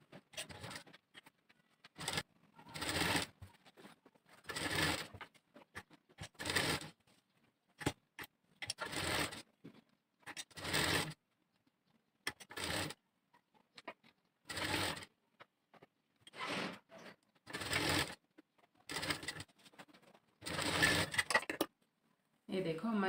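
A sewing machine stitches around the edge of a blouse sleeve in many short bursts with pauses in between, fairly close and steady through the clip.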